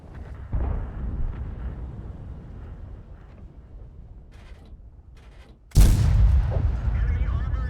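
World of Tanks tank cannon fire comes as a sudden loud, deep boom with a long rumbling tail late in the clip. Before it, quieter engine rumble and battle noise play on their own.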